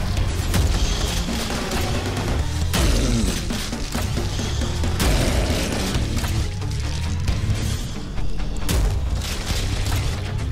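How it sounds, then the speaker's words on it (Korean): Shotgun blasts in the video game Prodeus, a dense run of loud booming shots and mechanical racking sounds repeating over about ten seconds, with no talk. "샷건이구나"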